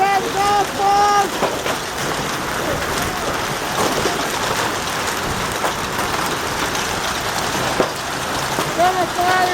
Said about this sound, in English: We got ourselves a hailstorm in Texas.